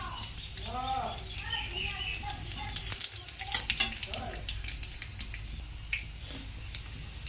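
Nigella seeds (black cumin) crackle in hot oil in a home kitchen. The steady sizzle sits under brief spoken sounds and faint bird chirps, with occasional sharp spatters.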